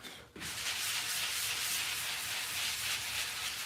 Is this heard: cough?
no